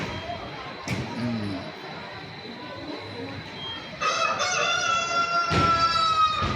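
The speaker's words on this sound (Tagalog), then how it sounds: "Manok ni Kanok Guwapo" Farmyard chickens cluck softly beside a pool resort, then a rooster crows loudly and close twice in the second half, over a background of speech.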